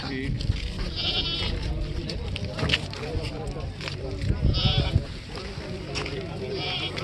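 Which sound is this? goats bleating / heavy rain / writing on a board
goats bleating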